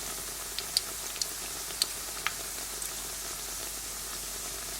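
Steady hiss of frying oil as kefir-dough pirozhki fry, with scattered sharp crackles and pops, fairly quiet and continuous, no talking.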